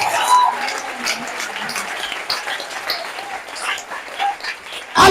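A congregation applauds at a French-language church service, steady clapping that continues throughout with voices mixed in and a louder burst right at the end.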